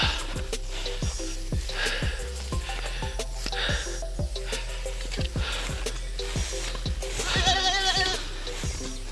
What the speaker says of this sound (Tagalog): kambing natin ayun pastulan